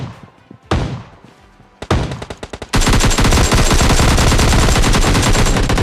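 Gunfire in PUBG Lite: a few separate heavy shots at first, then a quick burst of rapid shots, then a sustained loud automatic volley of close, rapid, evenly spaced rounds.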